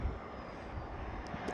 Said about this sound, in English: Yep, that was an Airbus A319-100.